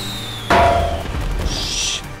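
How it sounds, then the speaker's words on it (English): Firework rockets fire in GTA 5 with a sudden sharp launch burst, followed by a whistling hiss and a brief high whine as they fly off, all fairly loud. "shooting rockets right now. The fireworks"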